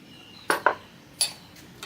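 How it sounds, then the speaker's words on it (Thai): A spoon clinks against a bowl while Thai dipping sauce ingredients are stirred, giving three or four sharp, close taps spread unevenly over a quiet background. "เดี๋ยวคนส่วนผสมก่อนนะคะ"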